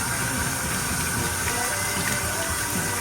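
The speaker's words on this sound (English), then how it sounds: "And now all I'm gonna do is fill this up, cold water, put it right there in the sink, shop sink." Cold water runs steadily from a shop sink tap into a foam cannon bottle, a loud, continuous close-up gush with no talking.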